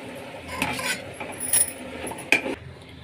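A spoon scrapes and clinks as turnip palya is dished out of the pan into a serving bowl: a few short, close metallic scrapes and taps against a quiet background.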